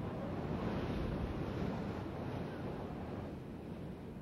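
Ocean surf rolls onto a sea lion beach in a steady, dense roar of breaking waves, with wind buffeting the microphone and no voices.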